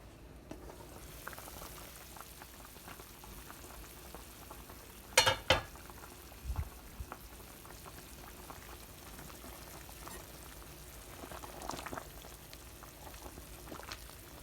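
Pot simmering on the stove with the lid on while cooking Southern cornbread dressing, a low, steady bubbling murmur with a few clattering knocks and clinks in the middle.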